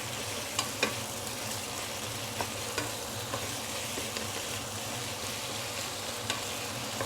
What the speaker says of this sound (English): as you are stir frying your chicken especially, the chicken will also release chicken fat